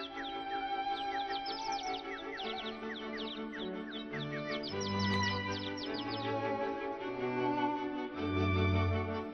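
Bright, rapid bird chirps and tweets repeat throughout, layered over a steady musical backing with low sustained tones.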